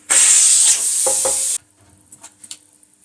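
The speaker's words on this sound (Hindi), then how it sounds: "तो अब कुकर को हम खोल लेते हैं।" A pressure cooker of cooked dal being opened releases a loud, close rush of hissing steam for about a second and a half, then cuts off abruptly, leaving faint clinks and rattles.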